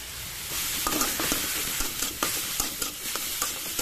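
Mashed roasted eggplant fries with onion in hot oil, a continuous close sizzle broken by sharp scraping and clicking as the mixture is stirred in the pan.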